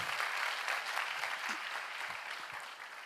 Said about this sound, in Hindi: ताली बनती है ना, बजाइए।